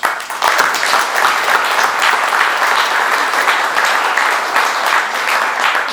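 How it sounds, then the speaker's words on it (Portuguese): Audience at a Brazilian Academy of Philology award ceremony gives a steady, full round of applause, dense and even, lasting the whole stretch without pause. "a quem eu peço uma salva de palmas."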